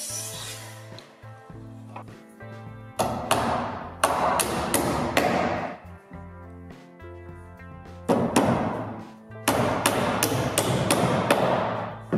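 Nails being hammered into a wooden plank on a flat-roof garden shed: bursts of sharp, loud, evenly spaced hammer blows separated by short pauses, with no talk.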